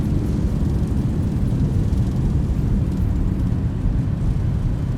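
Roaring jet engine reverse thrust on a Boeing 737 after landing in a flight simulator, a loud, steady low rumble that fills the whole stretch with no letup.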